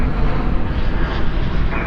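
An airliner landing at night at Dallas/Fort Worth with spoilers up and thrust reversers deployed, a loud dense rumbling roar, close and continuous, swelling slightly near the end.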